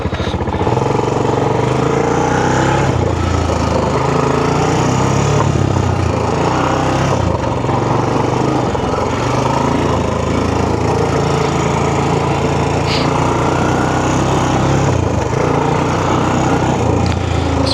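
Honda Recon 250 ATV engine running on an OHV trail, a loud, close, continuous motor drone that holds steady throughout with no pauses or talk.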